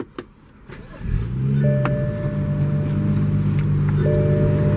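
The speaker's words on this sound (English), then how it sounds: "Go ahead and start it up." A 2016 BMW M235i xDrive engine cranks and catches after a few faint clicks, then settles into a steady, loud idle with a low rumble that holds to the end.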